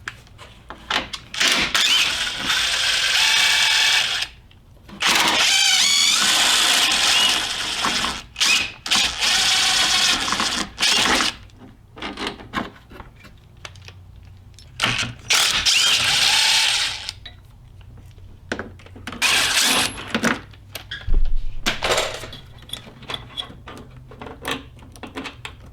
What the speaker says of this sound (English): remove the 2 bolts that are holding the radiator in, one on either side here, and also the bolts that are holding the condenser in